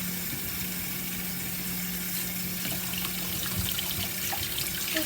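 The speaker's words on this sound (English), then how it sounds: "Just rinsing off my apples." Steady running tap water splashing over apples being rinsed in a sink, continuous and close with no talking.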